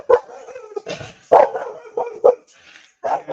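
Several indoor dogs bark loudly and repeatedly after a knock at the door, with sharp close barks in irregular bursts, some rising toward howls, separated by short pauses.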